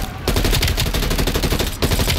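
Loud, rapid automatic gunfire from the video game Call of Duty: Black Ops Cold War fires in dense bursts, breaking briefly twice before resuming.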